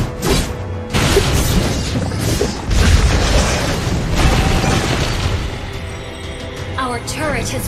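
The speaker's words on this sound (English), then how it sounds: "Our turret has been destroyed." A turret being destroyed in a mobile battle video game, heavy booming blasts and crashing impacts in quick bursts over busy game effects, loud and close, with a voice speaking in game.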